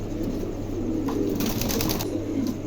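A pair of pigeons at a market stall coos low and steady, a soft continuous burbling close by with faint background noise and no talk.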